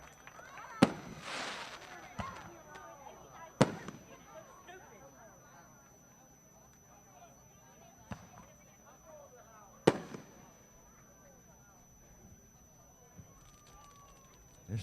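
Boom Boom Fireworks display at Gulf Coast Speedway during The Dawg 50 race event: sharp, loud booms burst at irregular intervals over a crowd hubbub, with crackling fireworks and murmuring spectators in between.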